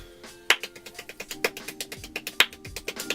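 Very fast hand clapping with palms moving in parallel, a rapid steady train of crisp sharp claps, close and distinct, with a few louder accented hits.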